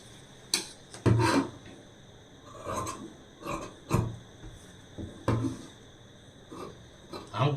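Marked fabric for a size 32 blouse being cut with scissors, a series of close, crisp snipping and rasping strokes in irregular bursts with quiet gaps between them.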